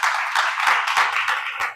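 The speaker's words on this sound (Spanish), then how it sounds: "Démosles un aplauso de bienvenida." A church congregation applauding to welcome a speaker: dense, steady clapping from many hands throughout, fairly loud and close, with no voices over it.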